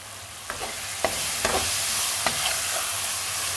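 Masala with chili powder and salt frying for Delhi biryani, a soft continuous sizzle with a few light scraping stirs of a spoon against the pan.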